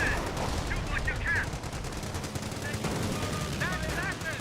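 A machine gun fires in the World War II strategy game Company of Heroes: a constant rattle of gunfire mixed with other battle noise, plus short chirping unit sounds now and then.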